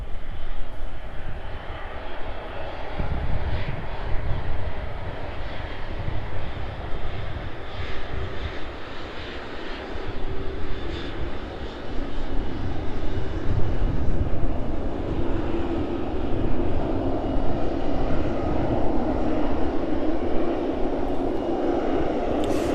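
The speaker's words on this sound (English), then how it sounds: "On its way down past us then, 777 in from Dubai." A Boeing 777 in from Dubai passes on its landing approach with a sustained, deep jet engine roar and whine, growing gradually louder and fuller as it nears, continuous and without talk.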